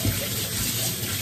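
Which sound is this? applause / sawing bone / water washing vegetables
water washing vegetables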